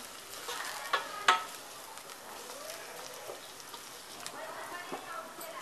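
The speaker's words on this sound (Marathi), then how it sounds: "कांदा छान परतून घ्यायचं आहे" Onion with chopped coriander frying in a pan for an Agri-style egg bhaji, a faint, soft sizzle broken by a few light spoon clicks and scrapes.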